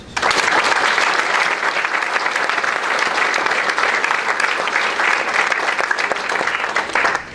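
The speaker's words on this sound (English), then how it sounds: "I would like to extend a round of applause for him" A hall audience at a Hartford Hawks Hall of Fame induction breaks into sustained, dense applause that stays loud and even from start to finish, with no talk over it.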